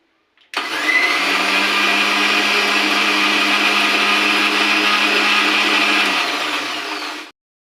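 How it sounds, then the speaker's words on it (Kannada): A mixer grinder blending baby food to a paste whirs loudly and steadily for about seven seconds, a high motor whine with a low hum, then cuts off abruptly. "ಈಗ ಇನ್ನೂ ಒಂದೆರಡು ಸಲ ಮಿಕ್ಸಿಗೆ ಹಾಕಿದರೆ ಪೇಸ್ಟ್ ಥರನೇ ಆಗುತ್ತೆ"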